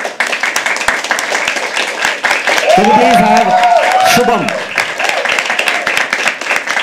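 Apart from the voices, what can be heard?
audience clapping at poetry open mic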